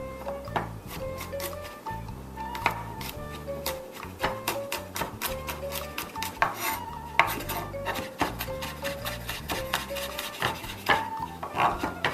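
Peeled garlic cloves placed into a bowl with other salsa ingredients, a quiet series of close clinks, taps and rubbing scrapes at an uneven rhythm.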